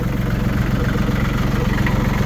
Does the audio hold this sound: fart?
no